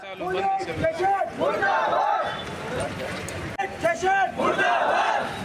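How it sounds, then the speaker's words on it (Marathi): A crowd of activists chants slogans against police outside a police station in Beed, loud rhythmic shouted phrases repeated in bursts by many voices. "पोलिसांच्या विरोधात कार्यकर्त्यांची घोषणाबाजी"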